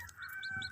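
A mother hen gives a short cluck or two, close by and fairly quiet, in a brief burst of less than a second with no one talking.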